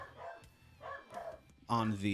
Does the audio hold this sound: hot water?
no